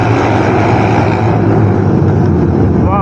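Loud, continuous roar of Royal Enfield Continental GT racing motorcycles revving at a 2023 cup race, dense and steady throughout with no pauses.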